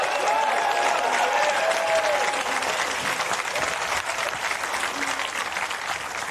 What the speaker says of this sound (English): may we have another round of applause for both our finalists,